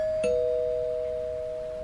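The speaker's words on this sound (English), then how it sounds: "the doorbell rang again." A doorbell chime rings once inside a house, a clear bright tone struck sharply and then sustained as it slowly fades, with no voices around it.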